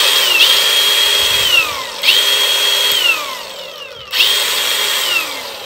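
A Milwaukee M18FSAG100X cordless angle grinder, a 2022 model with a 100 mm disc, M10 spindle, guard and side handle, spins up three times, each run holding a steady high whine before winding down.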